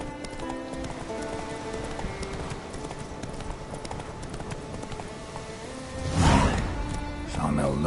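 Roach, a horse in The Witcher 3, gallops in quick rhythmic hoofbeats that carry on steadily, then a louder burst of noise near the end, with a voice cutting in briefly.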